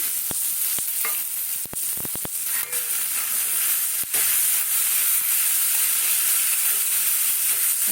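Paneer sizzling in a frying pan for a veg paneer puff, a close, steady hiss of hot oil with a few sharp clicks of the utensil against the pan early on.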